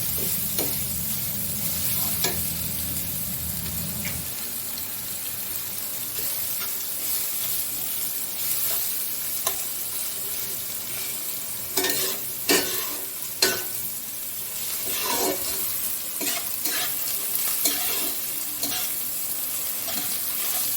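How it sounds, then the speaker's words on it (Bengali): Steady loud sizzling of garlic and onion frying in hot oil, with occasional stirring scrapes and sharper crackles throughout. "আর একটু সামান্য তেল দিলাম। যাতে যেন রসুনগুলো একটু ভালো করে ভাজা হয়ে যায়।"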